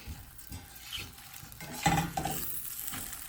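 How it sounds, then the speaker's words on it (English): An egg fries over medium-low heat in a newly seasoned carbon steel pan, giving a soft, steady sizzle with a few light scraping and stirring clinks partway through, close and fairly quiet. "we are frying an egg"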